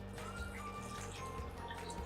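A cup of water poured into a pan of chicken and concentrated chicken stock for a fricassee, a short steady liquid splash and trickle heard on its own.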